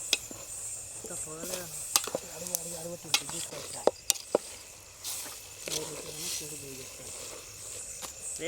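Ponaganti greens being stirred into frying masala, with soft scraping strokes of a spoon in a pan over a low sizzle, a few sharper clicks between them, while someone talks throughout.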